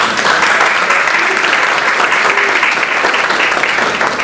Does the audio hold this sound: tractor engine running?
no